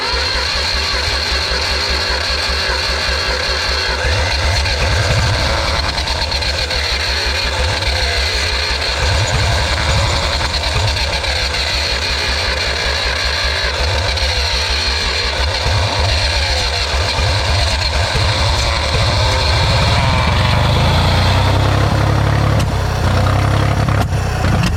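A 1974 Ford 3550 industrial tractor engine runs with the throttle slightly open, giving a steady, loud, rhythmic chug that holds for the whole stretch and rises a little near the end, with no talking.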